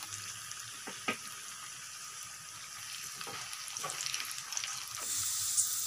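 Cashews and raisins frying in oil, a faint, steady sizzle with a few soft clicks and stirring scrapes, growing slightly louder toward the end, no speech.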